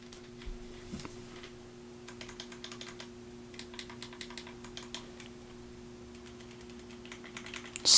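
Clicky buttons on a Hori D-Pad controller for Nintendo Switch are pressed in irregular rapid bursts of faint, sharp ticks over a steady low hum, close up with no talking.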